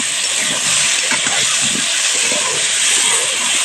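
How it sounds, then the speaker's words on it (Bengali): Potatoes with salt and turmeric fry in hot oil, giving a loud, continuous close-up sizzle and hiss that stays even for the whole stretch, with no voices. "আলুগুলো তেলের মধ্যে ভেজে নিব।"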